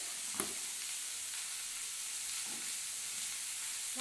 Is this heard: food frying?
yes